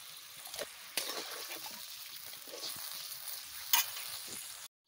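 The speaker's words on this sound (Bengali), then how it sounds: "এবারে জল দিয়ে দিচ্ছি।" Water poured onto frying masala for a mustard hilsa fish curry makes a sharp, steady sizzle and hiss in the pan with a few bubbling pops, close and moderately loud, then cuts off abruptly.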